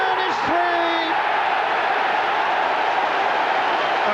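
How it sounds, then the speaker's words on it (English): A football crowd roars steadily at a Millwall match after a goal, a broad, continuous wash of cheering at constant loudness, with a brief whistle-like tone near the start and no speech over it. "The crowd are on their feet in the main stand on the other side there."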